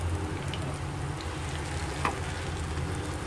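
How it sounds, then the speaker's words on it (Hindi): Naan frying on both sides in a pan at a street food stall gives a steady, low crackling sizzle that holds evenly throughout, with one small clink near the middle and no voices. "पहले मैं नान को आगे पीछे से फ्राई कर रही हूँ।"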